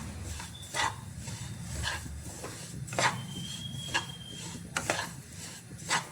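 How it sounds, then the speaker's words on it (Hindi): Sesame seeds dry-roasting in a kadhai over medium heat, stirred continuously, giving soft repeated scraping and clinking strokes of a spoon against the pan at an uneven rhythm. "डाल देते हैं कढ़ाई में तिल को और इसको लगातार चलाते हुए हमें भूनना है।"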